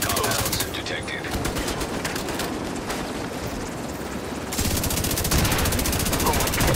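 Automatic gunfire from The Division 2 video game rattles steadily in fast bursts, loud and dense throughout, with game voices talking over the shooting.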